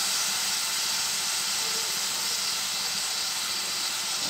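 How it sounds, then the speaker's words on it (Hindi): Onion, tomato, ginger and garlic sauté in a pan for an aloo matar curry, giving a steady loud hissing sizzle that holds evenly throughout without any talk. "जो हमने डाला था प्याज टमाटर और अदरक लहसुन, वो सब भून चुका है"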